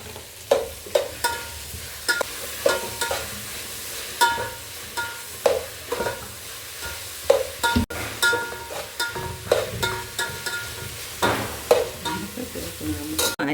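Onions with coriander, mint and curry leaves frying and being stirred in a pan for beef curry, a steady sizzle broken by repeated scraping stirs, close and moderately loud with no talking.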